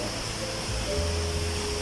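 First tier of Pa Wai waterfall, a red-rock cascade in Thailand, pouring as a steady, dense rush of falling water that fills the air evenly from start to finish, with no voices.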